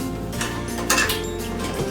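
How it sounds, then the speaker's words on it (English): Dirty dishes clatter and clink as they are loaded into a dishwasher, with ringing plates and cutlery knocking together close by. "Simply load your dishwasher with dirty dishes."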